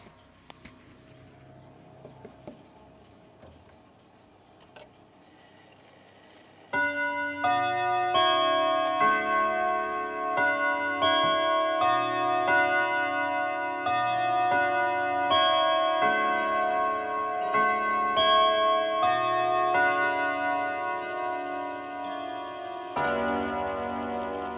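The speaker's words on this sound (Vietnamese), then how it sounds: "ngay sau đây thì sẽ là phần âm thanh tiếng chuông" A German Kienzle chiming clock ticks quietly for several seconds, then rings out a loud, sustained melodic chime sequence with overlapping, resonant tones that continues to the end, close and alone.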